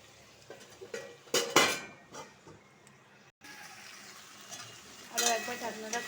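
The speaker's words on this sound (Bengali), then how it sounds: "আরও একবার ঢাকনাটা খুলে দিয়েছি" Metal pan lid lifted with clanks and scrapes off a pan of kundi (ivy gourd) and potatoes frying, a few sharp metallic knocks among a soft steady sizzle.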